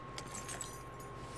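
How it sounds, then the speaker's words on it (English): A bunch of keys jangles in Life is Strange Before the Storm, with soft metallic clinks in short bursts over a steady low game ambience, close and fairly quiet. "All right, take some keys."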